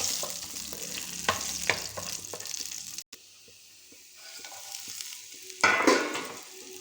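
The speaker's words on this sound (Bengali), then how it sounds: "কড়ার মধ্যে সর্ষের তেল দিয়ে তেলটা গরম করে নিয়েছি। এবার রসুনের কোয়া কটা আগে ভেজে নিব।" Garlic cloves frying in hot mustard oil in a wok, a steady close sizzle broken by a few sharp stirring scrapes, a brief dropout, then a louder burst of spattering near the end.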